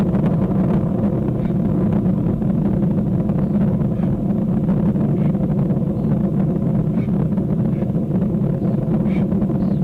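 A Falcon 9 rocket roars steadily through its ascent after launch, a continuous dense low rumble with wind-like noise that holds unbroken for about ten seconds.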